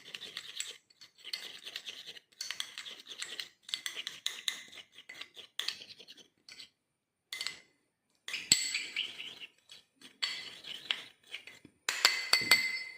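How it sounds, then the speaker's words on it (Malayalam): A spoon clinks and scrapes inside a small bowl while oils are stirred together for a face pack, coming in quick bursts of light metallic tapping with short pauses between. "നല്ലപോലെ ഓയിലെല്ലാം നല്ലതായിട്ട് മിക്സ് ആകത്തക്ക രീതിയിൽ നമ്മൾ നന്നായിട്ട് മിക്സ് ചെയ്തെടുക്കണം."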